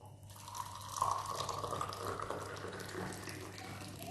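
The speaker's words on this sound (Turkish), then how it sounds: "Sıcacık su. Şöyle buraları da döküyoruz bakın. Kaynar su." Boiling water pours from a kettle onto a varnished floor, a continuous close splashing and trickling stream that softens toward the end.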